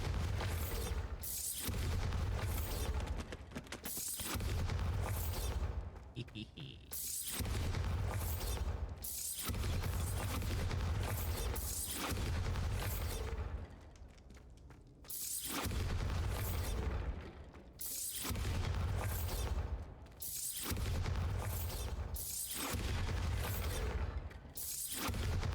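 Bombarda spells blast in the video game Hogwarts Legacy, a run of heavy, loud booming explosions with shattering debris. They come in repeated bursts every few seconds, each one cut off sharply, with no talk.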